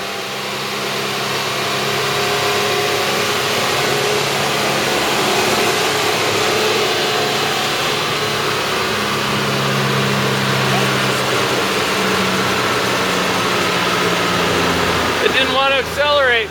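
Engine with its air filter fully plugged off, labouring and failing to pick up speed during a horsepower test; a loud, steady, strained drone runs throughout, with a brief rattly burst near the end.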